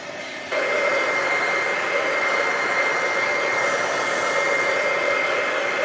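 Heat tool switching on and blowing hot air over stamped cardstock at a card-making workshop, a loud, close, steady whooshing drone that holds unchanged for several seconds with no talk.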